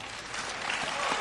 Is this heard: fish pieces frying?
no